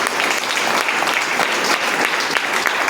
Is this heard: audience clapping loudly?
yes